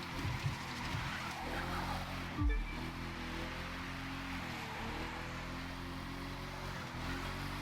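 A car in a racing video game loses grip and spins off the road, a steady engine drone broken by a brief scrubbing skid and thump partway through before the motor settles back to a constant hum.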